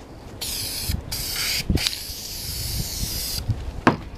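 High heat paint hisses from an aerosol can onto motorcycle brake calipers in short and longer sprays, close and steady with brief gaps between passes.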